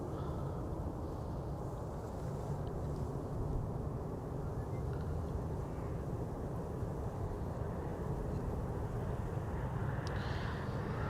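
An SAS CRJ regional jet touching down at an airport, heard as a steady, fairly distant broadband engine and airflow roar that holds for the whole stretch with no talking.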